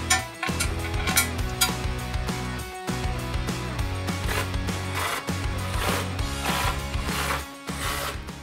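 A skid plate bracket is bolted into the cross member of a Jeep Wrangler Rubicon, with loud ratcheting clicks and mechanical clatter over a steady droning background hum.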